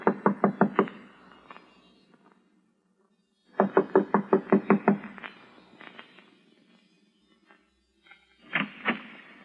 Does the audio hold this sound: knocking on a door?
yes